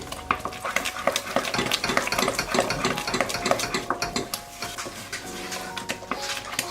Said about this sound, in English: let's start stirring it till it turns into peanut butter